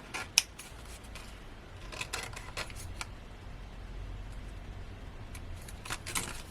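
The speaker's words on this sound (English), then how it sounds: "Okay, let's bring in the scissors." Quiet crisp snips and rustles of scissors cutting paper, a few sharp clicks scattered over several seconds, no voices.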